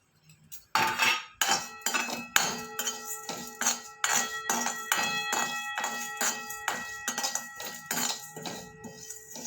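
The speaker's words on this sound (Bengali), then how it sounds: "যে মশলাটা গুঁড়ো করবো, যেটা মৌরি, জিরে, ধনে, শুকনো লঙ্কা, ওটা ভেজে নেবো একটু" Metal utensil scraping and clinking in a pan while fennel, cumin, coriander and dried chili dry roast: rapid, steady metallic taps and chinks, close and fairly quiet, with no voice.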